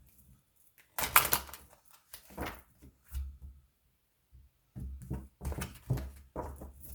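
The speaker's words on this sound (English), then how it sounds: "One more shuffle." Quick papery riffling bursts of tarot cards being shuffled, several short flurries separated by pauses, close and fairly quiet.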